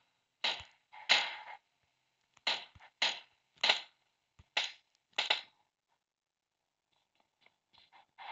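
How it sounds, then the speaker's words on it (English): Gunshots in PUBG Mobile ring out as seven or so sharp, separate cracks over about five seconds, followed by a few faint, distant pops. "They're shooting at us."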